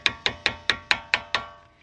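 A Honda Civic Type R brake caliper piston is tapped back with a plastic handle while fitting Brembo pads: seven sharp, evenly spaced knocks, close and fairly loud, each ringing briefly before the next.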